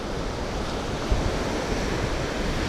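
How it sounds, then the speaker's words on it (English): Steady wind and surf on a Gulf Coast beach at Longboat Key, Florida, a continuous broadband roar of breaking waves with gusty wind buffeting the microphone, loud and unbroken, no voices. "It is a little windy today."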